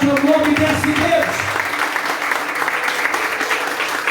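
A church congregation breaks into applause during a sermon, dense clapping from many hands that starts over a preacher's voice and continues steadily on its own.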